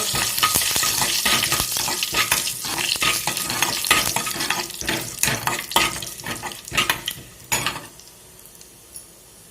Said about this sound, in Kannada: ಇದಕ್ಕೊಂದು ಸ್ಪೂನ್ ಜೀರಿಗೆ, ಒಂದು 10 ಕಾಳು ಮೆಣಸು, ಇನ್ನೆರಡು ಹುರ್ಕೋತೀನಿ 1 ನಿಮಿಷ.